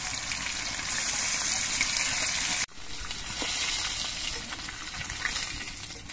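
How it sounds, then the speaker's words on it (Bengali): Pieces of rohu fish fry in hot oil with a dense, loud, continuous sizzle heard up close; the sound cuts off briefly partway through, then the bubbling carries on. "বাকি মাছগুলো একইভাবে ভেজে নিচ্ছি।"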